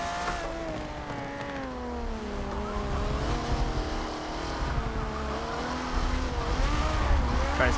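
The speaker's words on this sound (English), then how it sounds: "Try and not spin the tires as much out of the grass" Race car in Forza 7 at Suzuka spinning its tires on grass and dirt, engine revving and wavering in pitch with scrubbing tire noise, loud and continuous throughout.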